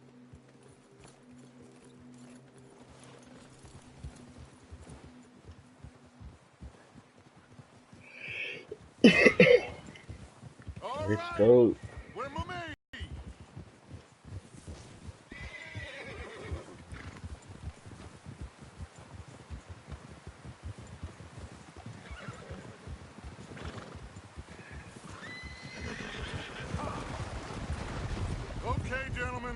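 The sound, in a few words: horses galloping and neighing, from video game Red Dead Redemption 2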